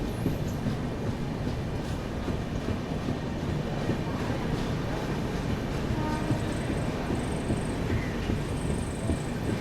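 Samata Superfast Express rolling into Parvathipuram station, a steady rumble of wheels and carriages running close by for nearly ten seconds, with faint high tones near the end.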